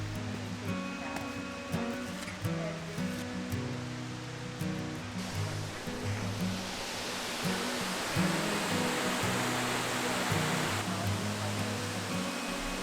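Eagle Falls at Lake Tahoe gives a continuous broadband rush of falling water that swells louder partway through, steady and without talk, under a faint low hum.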